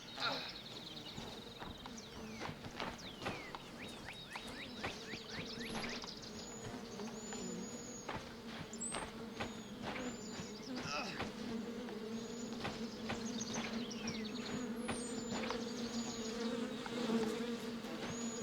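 Bees buzzing continuously near a hive in the video game The Vale, a fairly faint, steady drone that holds throughout under intermittent talking.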